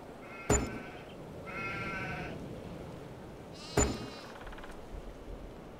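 Sheep in Farm Sim 22 give several harmonic bleats, two of them opening with sharp loud clicks, over steady low game ambience with no talking.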